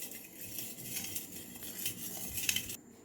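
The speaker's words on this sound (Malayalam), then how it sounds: "ഗൈസ്, നന്നായിട്ട് മിക്സ് ചെയ്ത് കൊടുക്കണം." A spoon stirs sugar into milk for French toast, giving faint, close light clinks and scraping against a bowl over a soft background hiss, with no talking.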